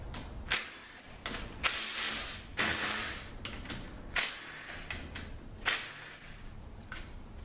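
An A340 automatic transmission has its valve-body bolts removed by hand, giving a string of close, sharp ratchet clicks and metallic taps in irregular bursts, with no talking.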